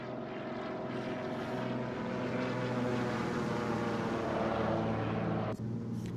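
A DHC-2 Beaver propeller plane heard from outside in flight within a flight simulator game, with a steady, loud radial engine drone and propeller hum that continues without a break.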